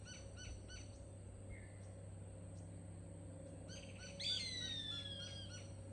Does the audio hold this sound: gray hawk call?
yes